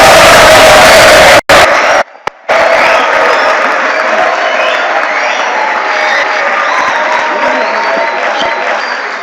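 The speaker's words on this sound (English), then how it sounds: "let's have some loud applause" An audience in a hall in Accra gives a loud standing ovation at a mentorship and career talk, with sustained heavy clapping, cheering and whoops, after a couple of abrupt cuts near the start.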